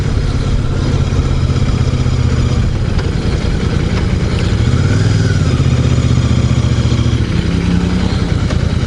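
Royal Enfield Super Meteor 650 Celestial Red motorcycle, its parallel-twin engine running steadily close by with a deep throbbing exhaust note and a brief rev swell midway, no voices.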